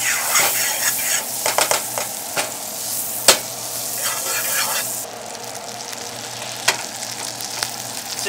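Salmon cooking in butter in a pan sizzles and crackles steadily, with scattered clinks and scrapes of a fork against the pan rising over the frying.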